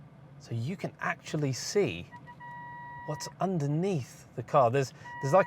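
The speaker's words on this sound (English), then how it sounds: "Sorry for the beeping." Parking sensor of a 2023 Mercedes-Benz GLC SUV emitting steady electronic beep tones between and under a man's speech while the car creeps forward.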